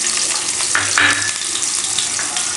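Onions and curry leaves fry in hot oil with mustard seeds, a loud, continuous sizzle that swells briefly as a flat spoon stirs them.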